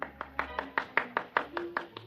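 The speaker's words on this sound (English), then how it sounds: "there was a smattering of applause like a matinee just before they closed the show" A thin smattering of applause from a golf gallery, about a dozen separate claps in a steady rhythm, close and fairly clear with no voices over them.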